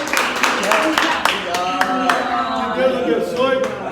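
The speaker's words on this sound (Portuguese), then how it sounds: "vamos aplaudir ao Senhor Jesus." Applause from a theological seminary class audience at the close of a Portuguese lesson on the Gospel of Mark: scattered, fairly sharp claps heard close by, mixed under someone speaking throughout.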